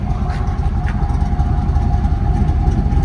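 A 1995 Chevy Camaro Z/28 with a 388 stroker V8, headers and Gibson cat-back exhaust idles with a steady, deep, loud rumble close by, uninterrupted for a few seconds.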